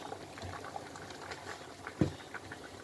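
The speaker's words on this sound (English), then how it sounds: "let's check on our soup. We're almost there. Yeah. Give it a stir." Boiling ogbono soup bubbles softly in a pot as it gets a stir, with a low patter of bursting bubbles and one brief thicker knock from the spoon.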